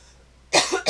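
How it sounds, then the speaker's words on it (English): A close, loud adult cough, one harsh burst followed by the start of another, right after near silence. "sorry. I got a cough."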